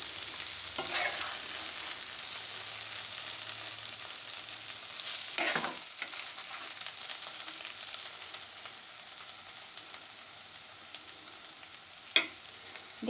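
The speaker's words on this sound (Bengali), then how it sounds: "হয়ে গেল আমার কাঁচা টমেটো ভাজি।" Green tomatoes frying in a pan give off a steady, close sizzle, broken by a few sharp scrapes and clinks as they are stirred.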